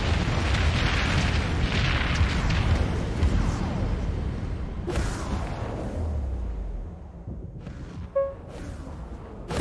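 Heavy space-battle explosion as a hostile attack cruiser is destroyed in the video game Dreadnought, a long, loud rumbling blast with crackling debris, followed by quieter rumble and a few short electronic tones near the end.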